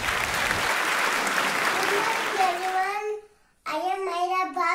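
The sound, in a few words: audience applause at singing competition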